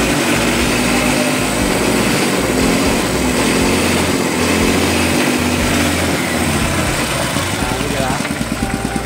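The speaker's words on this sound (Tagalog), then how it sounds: "So pakinggan nyo kung gaano kalakas yung makina." A freshly refurbished motorcycle engine runs close by, loud and steady, with a dense, buzzing idle-like drone and a fast, even pulse that continues without a break.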